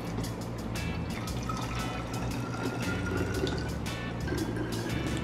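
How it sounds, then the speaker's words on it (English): Soaked parrot tea is poured into a spray bottle, a steady close gurgling fill with liquid trickling and bubbling continuously throughout. "the rest I'll put in her spray bottle."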